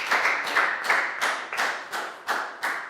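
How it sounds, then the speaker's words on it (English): A small group of Year 4 pupils claps for a classmate during a health lesson on locomotor movements, a close, even rhythm of about eight distinct clap bursts with no talking. "High five and a big round of applause for Prel"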